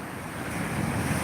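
Ocean surf rolls in under steady wind, a broad continuous roar of breaking waves with gusty microphone buffeting, swelling slightly louder toward the end.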